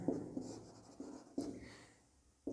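Pen strokes on paper during a Hindi-language maths lesson on quadratic equations, a few soft scratchy strokes spaced apart in a quiet room, with no talking.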